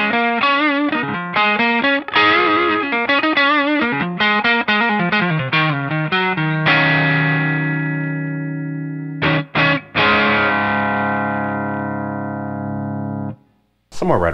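An electric guitar on its neck pickup plays through an amp with the treble set up, starting with quick picked notes, then sustained ringing chords that fade out, with a brief gap before a final strum.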